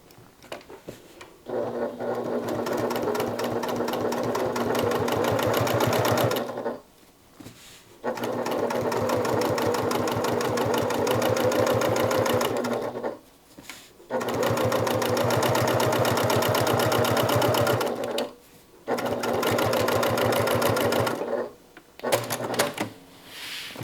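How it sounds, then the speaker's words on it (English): A sewing machine top stitches along a pocket lining in four long runs of rapid, steady needle clatter, each separated by brief pauses, close and clear with no talk. "we're going to top stitch on the lining."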